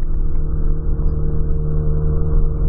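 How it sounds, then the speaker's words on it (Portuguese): Ford Fiesta Supercharger engine with a holed exhaust idles steadily and loudly up close, a low, rough, continuous rumble with a throaty exhaust drone and no talking. "Tá com barulhinho, mas isso é por causa do escapamento mesmo que tá furado"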